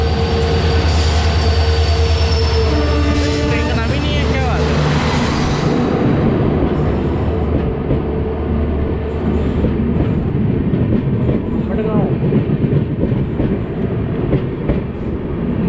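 Mandovi Express rolling past close by while crossing the Ernakulam Duronto Express, with a loud, heavy rail rumble, wheel squeals early on, and a steady clatter of cars going by.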